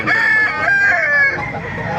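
A rooster crows at a market in Baliuag, one loud, close, drawn-out cock-a-doodle-doo lasting most of the moment, with faint market background around it.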